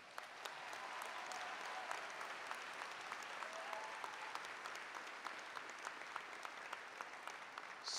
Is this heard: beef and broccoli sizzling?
no